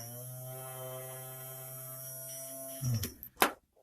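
A Dremel rotary tool motor, converted to lithium-ion battery power, whines steadily with a thin, buzzing hum, then stops with a few clunks and a sharp click near the end.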